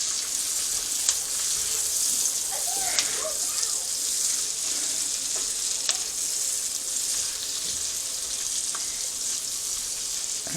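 Cabbage with green bell peppers fries in a pan, giving a steady hiss and sizzle broken by occasional clinks and scrapes of stirring.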